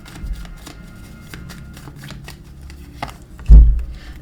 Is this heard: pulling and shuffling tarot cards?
yes